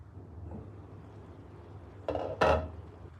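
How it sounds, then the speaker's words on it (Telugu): A lid set onto a pot of egg masala for dum biryani, two quick metallic clanks close by, the second louder, after a quiet stretch of low kitchen hum. "మూత పెట్టి మగ్గించుకుందాం."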